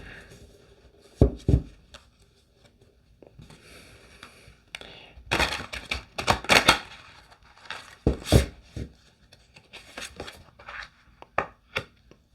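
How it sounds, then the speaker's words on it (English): Irregular bursts of crisp riffling and slapping as tarot cards are shuffled and tapped together, separated by quiet pauses. "I'm shuffling them."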